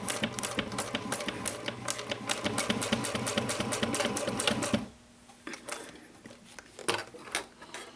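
A sewing machine stitches a small box tote bag in a fast, loud, even run, then stops and leaves scattered handling clicks and bumps.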